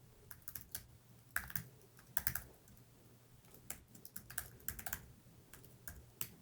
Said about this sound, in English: To set up an account, type in your email address,